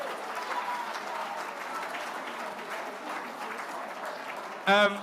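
Audience applause at a pet awards event, a steady wash of clapping from a crowd lasting several seconds, ending with a brief burst of a higher-pitched voice or squeal.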